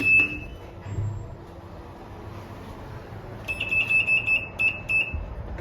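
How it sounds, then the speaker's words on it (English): Loud, bright electronic beeps from the call buttons of a Schindler ES5 machine-room-less traction lift in a shopping centre, sounding as a rapid cluster of repeated tones near the end over quiet background hum. "I really don't like those beeps. They're really, really loud, eh?"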